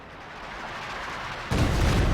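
Artillery in Company of Heroes 2 firing blind, a low rumble that builds and then a heavy boom lands at the end, deep and broad.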